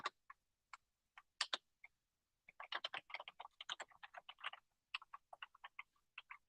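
Quiet, close keystrokes on a computer keyboard come first as scattered single taps, then as a quick burst of typing, and finish with a few irregular clicks, with no talk.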